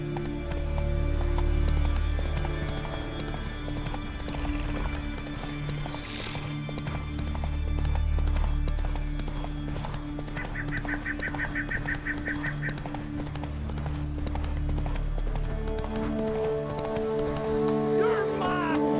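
A horse gallops in The Witcher 3: Wild Hunt, rhythmic hoof clip-clop rising and falling in waves with a whinny partway through, over a music bed and game ambience.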